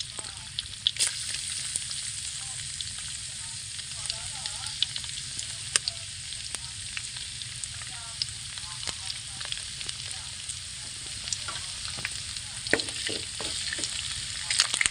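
Garlic fries in a hot pan with a constant crackling sizzle, broken by scattered sharp pops and utensil clicks. The sound is close and moderately loud, with no talking.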